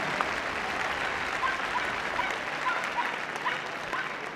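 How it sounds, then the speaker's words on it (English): Audience applause fills an indoor arena at the Crufts dog show during the Eukanuba Mini Challenge agility round in 2009, a steady, dense wash of clapping that holds at an even level for the whole stretch. "Round of applause, please,"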